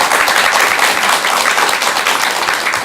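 Loud, dense clapping from an audience at a Buddhist talk, a close, continuous wash of many hands with no voices over it.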